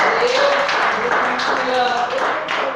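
A church congregation applauds with a steady, dense patter of many hands, loud and sustained, with voices and cheering mixed in.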